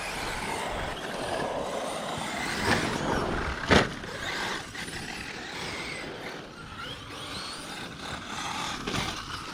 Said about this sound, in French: il y a les voitures qui sifflent